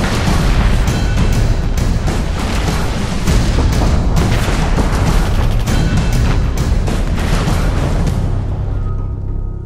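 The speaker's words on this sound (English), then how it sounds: "There's too much to be gained from deciphering the sounds of incoming fire." Incoming artillery fire and explosions in the video game Operation Flashpoint: Red River, a dense, loud barrage of booms and blasts rumbling continuously for nearly ten seconds before tailing off slightly at the end.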